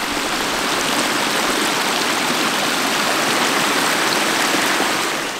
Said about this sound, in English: now we're down at the South Fork of Tom's Creek